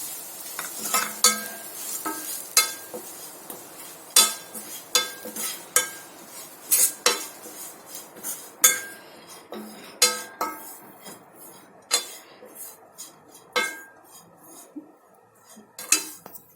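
A spoon stirs bitter gourd curry with peanut powder in a pan, a series of distinct scraping clinks of metal on metal over a low sizzle, irregular strokes repeating for about fifteen seconds.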